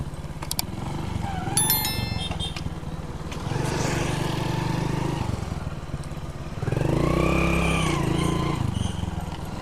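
Vehicles, including motorbikes and cars, drive over the NH66 highway overpass, their engines rising and fading as they pass close by in a busy, continuous roadside rumble with clattering and a horn-like tone early on.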